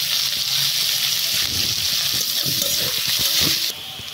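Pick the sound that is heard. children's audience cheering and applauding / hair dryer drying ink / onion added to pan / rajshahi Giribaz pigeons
onion added to pan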